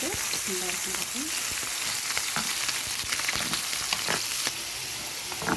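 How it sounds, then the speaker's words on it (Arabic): Liver dropped into hot oil sizzles steadily and close by, with scattered crackles and pops throughout and a brief murmur of voice near the start. "انا هنا بعد ما حطيت الزيت هنزل بالكبده"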